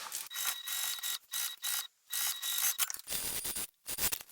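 A sewing machine stitches down the sides of a tote bag, its mechanism whirring and clicking in repeated bursts of short runs separated by brief pauses, close and steady with no talking.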